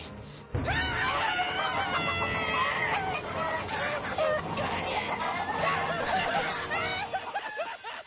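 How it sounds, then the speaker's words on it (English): Chickens cluck and squawk in a busy, steady flurry in LEGO Marvel Super Heroes 2, mixed with chuckling voices and game sounds throughout. "Chickens."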